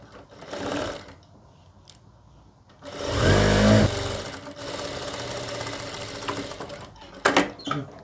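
A sewing machine stitches a summer salwar, with a loud, steady burst of running stitches mid-way, framed by quieter mechanical whirring and handling before and after.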